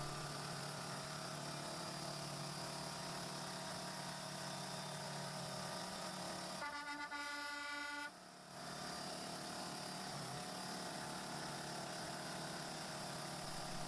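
An Oshkosh M1070 heavy truck grinding up a muddy off-road slope, its engine droning steadily and loudly throughout, with a brief harsher tonal burst partway through before the drone resumes.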